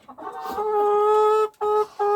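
A chicken gives a drawn-out, strained vocal call up close, broken into a few sustained tonal bursts with brief gaps between them.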